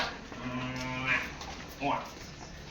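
A cow gives one long, low moo nearby, followed by a few quieter rustles.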